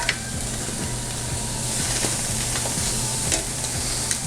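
Hanger steak sizzles loudly in a hot pan, a dense, continuous frying hiss with faint crackles and small pops, close up and without any talking.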